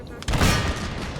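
Musket volley from massed infantry in Empire: Total War, a loud rolling crackle of many shots booming together and fading, with voices talking over it.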